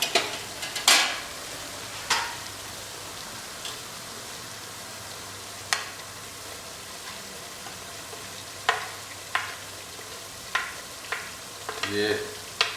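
Spices stirred into golden brown fried onions in a pan for Rajasthani boti masala, with a low continuous sizzle and repeated sharp spoon scrapes and taps against the metal at irregular intervals.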